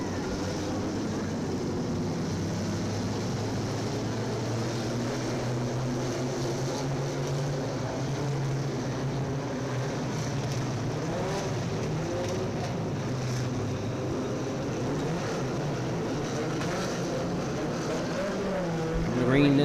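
Pierce Stock 4-cylinder race cars idle and roll in formation at County Line Raceway before the green flag of a five-lap heat, a steady, droning engine rumble throughout with a louder surge at the very end.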